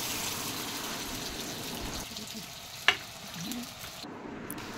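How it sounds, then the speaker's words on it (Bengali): Soybean-based vegetarian fish pieces frying in hot oil, a steady close sizzle with a sharp crackling pop near the middle as a piece goes in, no talking. "সয়াবিন দিয়ে বানানো মাছগুলো আমি ছেড়ে দিচ্ছি তেলে"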